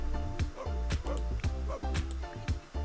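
A dog in The Sims 4 lets out repeated short barks and yips in quick, uneven bursts, close and fairly loud.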